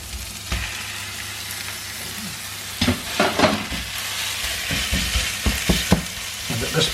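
Garlic, shallots and spinach sautéing in a hot pan: a steady close sizzle with bursts of louder crackling and stirring scrapes as the spinach goes in, no talking.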